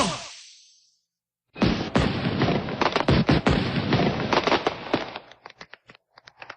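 A rapid string of sharp pops and bangs from homemade firecrackers, loud and close, crackling densely for several seconds before thinning into scattered last bursts.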